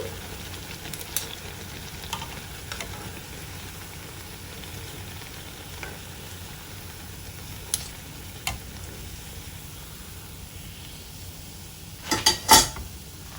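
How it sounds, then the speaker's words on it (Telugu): Poha snacks fry in oil with a faint, even background sizzle, broken by a few soft ladle taps and a brief louder clatter of utensils near the end. "మిగతా అన్నీ కూడా ఇలాగే వేయించుకోవాలి."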